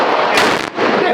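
A real firearm such as an AK or M4 fires a loud, close burst at a shooting range, a dense run of sharp cracks with a slight dip near the end.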